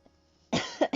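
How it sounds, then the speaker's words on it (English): A few sharp coughs close to the microphone, coming in quick succession after a moment of near silence. "I love how I turn away to cough"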